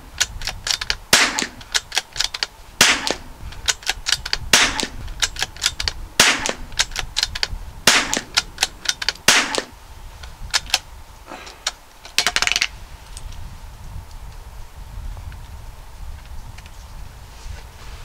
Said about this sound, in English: Just for your information, I sped this shooting up.